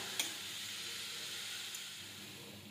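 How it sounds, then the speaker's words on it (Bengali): Chicken pieces fry in a pan with a steady, soft sizzling hiss throughout, a couple of faint ticks rising briefly above it, no voices. "অল্প ভেজে নিয়ে এবার চিকেনের টুকরোগুলো দিয়ে দেবো। এগুলো ভালোভাবে মিশিয়ে ভেজে নেব।"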